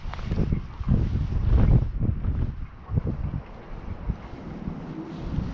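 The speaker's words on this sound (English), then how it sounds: "wind does not let up at all." Strong, gusting wind buffets the microphone during mid-March ice jigging for perch, heavy low rumbling blasts that surge and ease without a break.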